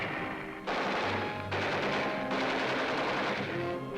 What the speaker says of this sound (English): Medical corpsmen carrying wounded scatter as Japanese snipers open fire.